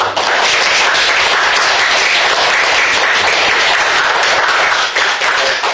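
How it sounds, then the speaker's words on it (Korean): Audience applause at the close of a lecture and Q&A session at a Korean policy research forum, a dense, steady wash of clapping that stays loud and unbroken for several seconds with no talk over it. "이렇게 해서 박수로 오늘 수고해 주신 우리 박상원 대표고요"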